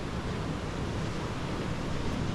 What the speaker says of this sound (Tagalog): Saka ang lakas ng alon, no?